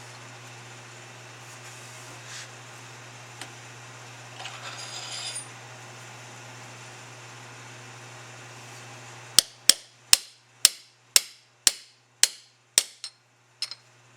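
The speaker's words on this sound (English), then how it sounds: "Tap it down till you got about a 1/16 or an 1/8 of an inch" Metal tapping on a Carter 4907S fuel pump for a Ford FE as a spring is driven into place, about nine sharp, evenly spaced close taps after several seconds of quiet, with no talk.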